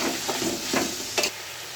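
Vegetables with salt and black pepper frying in a pan for fried rice, a steady sizzle broken by a few scraping stirs, the last one the loudest, heard alone with no voices.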